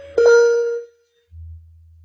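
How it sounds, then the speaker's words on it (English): A single clear chime rings from a Boeing 787 cabin interphone, a bright tone with a ringing tail that fades over half a second, followed after a short gap by a low steady hum. "At the receiving station, the pink cabin interphone call light comes on and a chime sounds."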